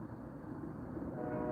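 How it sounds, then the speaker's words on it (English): A train rumbles steadily in the distance near a park, a broad low drone that swells slightly toward the end with no voices. "I hear a train."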